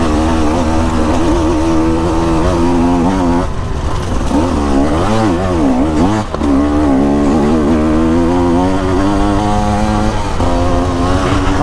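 A 2024 KTM 150 EXC dirt bike engine drones loudly and steadily while being ridden, its buzzing two-stroke pitch swooping up and down with throttle blips and gear changes.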